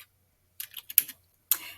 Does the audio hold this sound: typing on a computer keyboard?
yes